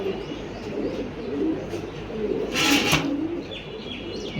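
Pigeons coo softly and steadily in a home pigeon loft, with a brief chirp and wing flutter partway through, over a low background hum.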